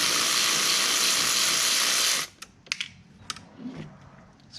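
An 8mm socket wrench works a small nut off a car battery terminal on a 2015 Chevy Malibu, giving a steady loud mechanical whir for about two seconds, then a few sharp clicks and light clatter.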